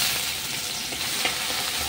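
Ginger goes into hot oil already crackling with bay leaf, dried chilli and cumin tempering, producing a loud, dense, continuous sizzle that stays even throughout.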